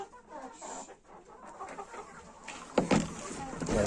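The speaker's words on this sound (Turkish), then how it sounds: "tavukla horozumuz burada" Chickens and a rooster clucking in a farmyard coop, intermittent soft clucks building to louder calls near the end, with a faint voice in the background.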